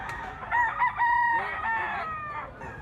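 A yellow-legged bull stag crows nearby, a loud drawn-out cock-a-doodle-doo with a few harsh syllables, against a faint farmyard background.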